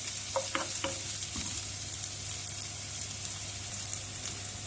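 Food for escabeche fries in a pan with a steady, close sizzle, a few light stirring taps and scrapes near the start, no voices.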